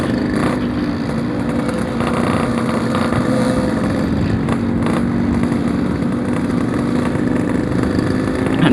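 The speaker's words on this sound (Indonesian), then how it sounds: "Ini motor gua di RPM 4000 sampai 6000 tuh berebut banget." A motorcycle engine revving in the 4000 to 6000 RPM range while riding home, a loud, steady, close droning roar with wind rush, no talk.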